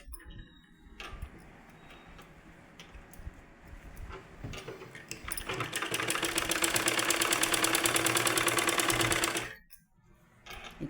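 A sewing machine stitches piping onto cloth: a low, quiet start that settles into a fast, even mechanical rattle, growing louder and then stopping abruptly, close up with faint talk in the background.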